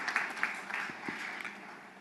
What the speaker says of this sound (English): Let's give them an applause for participating in this great competition